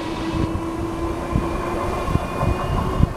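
London Overground class 315, 815 and 806 trains pass at Bush Hill Park with a steady rolling rumble, a sustained tonal hum and rhythmic wheel clacks over the rail joints, fairly close and without talk.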